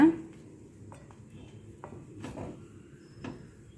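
A pot of raw mango rasam with spice powder being stirred, soft scattered scrapes and light metallic clinks of a spoon against the pot, quiet and close.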